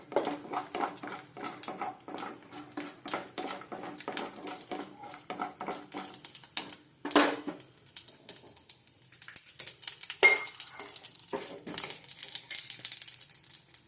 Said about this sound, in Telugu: జీలకర్ర కాస్త వేడిగా అయిన తర్వాత జీడిపప్పు వేసి ఇలా లైట్గా వేయించుకోవాలి, గోల్డెన్ బ్రౌన్ కలర్ వచ్చేలాగా